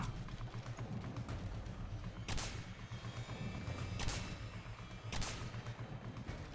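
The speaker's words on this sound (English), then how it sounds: "That's a proper explosion." Explosions in the video game Singularity, three sharp broadband blasts a couple of seconds apart over a dense, rumbling low-end battle din, loud and close.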